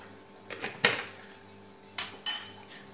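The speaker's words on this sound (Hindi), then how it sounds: "इसे मिक्स कर लेते हैं।" Spoon clinks and scrapes against a bowl as spices and salt are mixed into curd buttermilk, a few sharp separate knocks and rattles, close and fairly quiet, with no talking.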